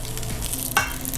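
Butter sizzling in a pan with chicken for Madras curry, a soft steady fry with a brief louder crackle midway, close and alone.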